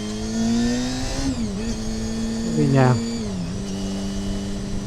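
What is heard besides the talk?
Honda CBR250RR MC22 motorcycle engine revving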